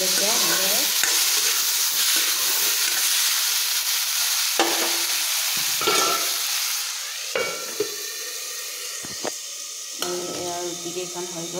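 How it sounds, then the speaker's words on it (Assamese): Ridge gourd with onion and chilli fries in a pan while being stirred, giving a steady, close sizzle broken by repeated scraping strokes, with some talk over it. "জিকা পিঁয়াজ জলকীয়া এনেদৰে"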